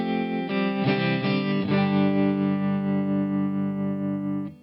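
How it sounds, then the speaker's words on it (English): Electric guitar played through a tremolo modulation effect on a Fender Tone Master Pro, sustained distorted chords with a pulsing, wavering volume, close and alone. "Honestly, tremolo is my favorite modulation effect,"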